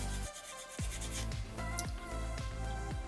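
Sandpaper rubbing over a small soapstone shark carving, close rhythmic back-and-forth strokes at a steady pace, soft gritty scraping with no voices.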